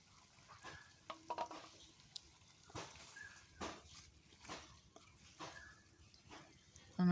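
Meat being stirred and fried down in a pan for a meal for guests, with repeated scraping strokes of the spoon over a quiet, low sizzle, close by and with no talking.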